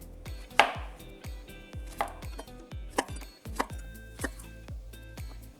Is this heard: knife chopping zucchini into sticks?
yes